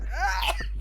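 A single short, sharp sneeze with a voiced, rising onset and an abrupt burst at the end, close and clear in a podcast setting, with no talk over it.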